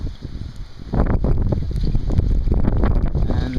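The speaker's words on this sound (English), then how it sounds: "And now the wind's picking up." Strong hurricane wind roars and buffets the microphone outdoors near a flooded parking lot, a loud continuous rumbling gust that surges after the first second and holds steady.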